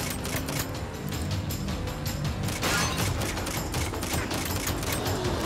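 Sustained, dense gunfire in the Saints Row video game, rapid automatic bursts layered with heavier booms, loud and continuous throughout with no pause.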